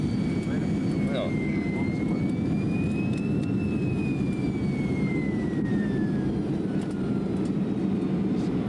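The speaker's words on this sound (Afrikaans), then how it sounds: "Nadat die vliegtuig veilig op die aanloopbaan neergestryk het" Steady jet aircraft roar as a plane lands on a runway, loud and continuous, with a thin high whine sweeping up and back down over the engine rumble.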